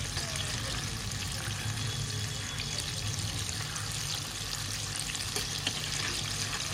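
Chicken nugget pieces fry in hot oil and get turned over, giving a steady close sizzle and bubbling with faint stirring clinks throughout.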